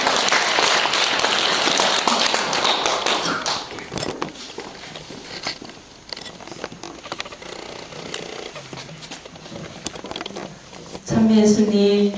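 A seminar audience breaks into dense, loud applause to welcome the fourth group onto the stage; the clapping runs steadily, thins out toward the middle, and then gives way to a short tonal sound at the end.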